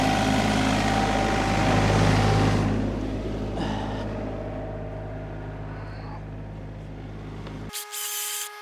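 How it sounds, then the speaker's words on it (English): A chainsaw runs while cutting firewood low to the ground, a loud steady buzzing drone that eases off partway through, then cuts out abruptly near the end. "struggle with the chainsaw."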